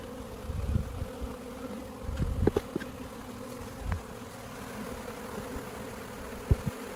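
A low, steady drone of many bees buzzing fills the air, with occasional louder passes and faint clicks and bumps nearby.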